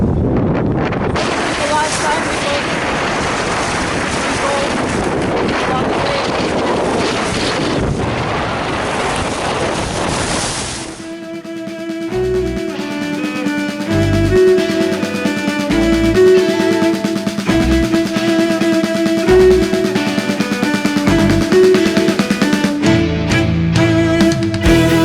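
Strong wind roars across the microphone on the Lake Baikal shore where people kite surf, a dense continuous blast for about ten seconds before it cuts to quieter music-like tones.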